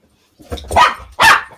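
A dog barks twice in quick succession, both barks loud and close with a short gap between them, with nothing else around them.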